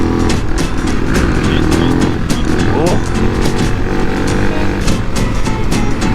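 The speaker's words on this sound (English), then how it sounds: "My bike has never been wheelied like that, Rasmus." Motorcycle engine roaring steadily throughout during a wheelie on a light trail bike in the Balkans, loud and continuous with engine harmonics and some wind, speech mixed in.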